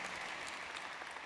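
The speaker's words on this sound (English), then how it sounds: "Let's give a round of applause." Brief, soft, steady applause from a church congregation, a dense even patter of hands heard faintly from a distance.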